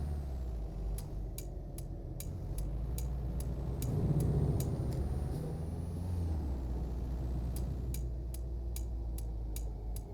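Air brakes hiss on a truck in Euro Truck Simulator 2 multiplayer, a broad release swelling midway over steady engine rumble, while a regular clicking indicator ticks through much of the scene.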